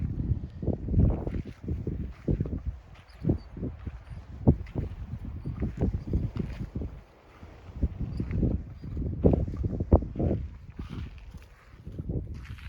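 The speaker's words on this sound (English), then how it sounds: "So I apologize for the wind." Gusty wind at a campsite on the Pacific Crest Trail buffets the microphone in irregular low thumps and rumbles, close and fairly loud, with no talking.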